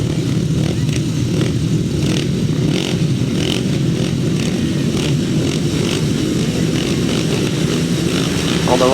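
500cc solo grasstrack motorcycles roar steadily throughout, a dense continuous engine drone at close range with no gaps, over a grass racing track at a meeting.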